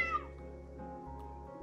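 A calico cat meows once at the start inside a video game cat cafe, a short, bright cry that fades into a low steady background hum.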